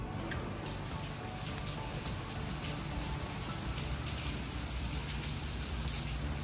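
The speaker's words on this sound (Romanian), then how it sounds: "Plouă afară." Rain falls outside in the Dominican Republic as a steady, dense patter on surfaces, close and constant with no speech.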